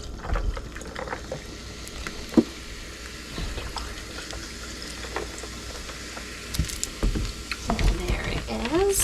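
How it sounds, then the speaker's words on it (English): Sprite poured into basil lemonade fizzes and crackles with bubbly, patter-like pops and a few sharper clinks. It is close and fairly loud, with a faint voice now and then. "And then I add some Sprite to it."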